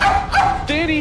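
A voice imitates a dog in two short bursts of whiny yips and whimpering barks, close and fairly loud, with no other sound around them.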